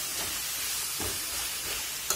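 Pea leaf greens cook in a pan with a steady soft hiss, broken by a few brief stirring strokes and a small clink near the end.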